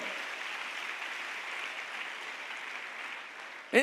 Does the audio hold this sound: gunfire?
no